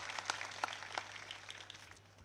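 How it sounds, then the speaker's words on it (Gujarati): A crowd at a Thakor community gathering in Diyodar claps in answer to a call to applaud. The clapping is faint and scattered, with a few sharper bursts, and it thins out over about two seconds. "એ બીજે ઠાકોર માટે એકવાર જોરદાર તાળીઓ પાડો."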